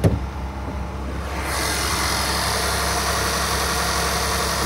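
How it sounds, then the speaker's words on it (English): A 2013 Jaguar XF 3.0 V6 AWD idles close by, its steady low engine hum and faint vibration running evenly throughout, slightly louder after the first second and a half, with no talking over it. "The motor sounds good."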